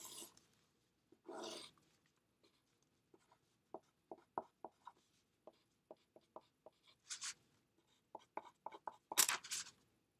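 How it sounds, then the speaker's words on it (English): Pen or pencil drawing on a sheet of paper during a lecture on convex sets, faint scattered scratchy strokes and taps with a few longer rubbing swipes, quiet and close. "actually draw it on the sheet of paper"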